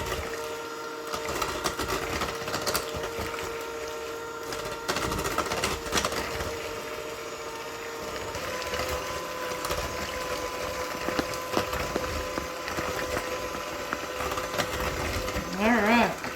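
An electric mixer whirs steadily while it mixes buckeye cookie dough with vanilla, a continuous mechanical hum with uneven rattling as the beaters work the dough, and a voice faintly underneath.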